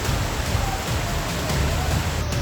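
Torrential downpour in Junagadh during severe flooding, a dense, loud, unbroken hiss of heavy rain filling the whole clip.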